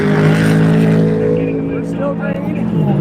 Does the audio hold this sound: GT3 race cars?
yes